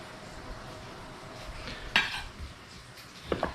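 Orange segments and kale are tossed together in a bowl, with soft rustling and a couple of sharp clinks of utensils against the dish, close by with no talk.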